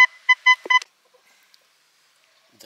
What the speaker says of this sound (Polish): Wykrywacz gotowy. No i jest sygnał.